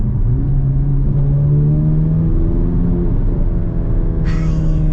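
A 2024 Chevy Corvette Z06 engine revs in manual mode, a loud close rumbling roar with rising then steady pitch as it pulls through the gear, heard from inside the car.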